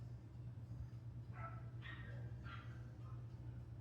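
A dog whimpers in a few short, high, plaintive whines, fairly faint over a steady low hum, with no talking.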